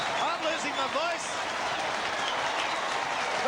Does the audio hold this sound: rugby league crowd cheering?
yes